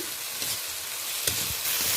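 Ginger-garlic paste masala with salt, tomato and onion fries over low heat, a steady loud hiss with a few soft stirring bumps, heard up close with nobody talking.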